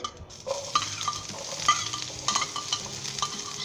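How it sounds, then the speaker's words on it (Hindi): Onions tossed into smoking-hot mustard oil hiss and sizzle, with stirring scrapes in the pan during a Bengali aloo gobhi preparation, close and steady without talk. "चलिए दोस्तों मस्टर्ड ऑयल ने स्मोक छोड़ दिया। अब हम इसके अंदर सबसे पहले प्याज डालेंगे,"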